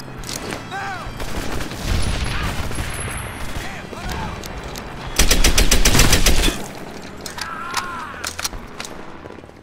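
Rapid gunfire bursts from Medal of Honor Airborne, a World War II shooter, crackling through a busy game mix with distant booms, the loudest volley near the middle, while faint voices sound in the background.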